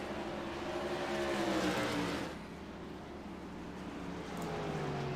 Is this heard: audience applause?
no